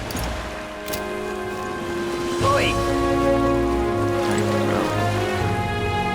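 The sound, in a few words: rain falling in the video game Metaphor ReFantazio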